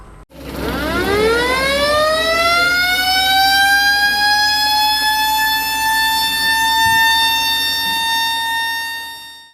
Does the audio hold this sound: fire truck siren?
yes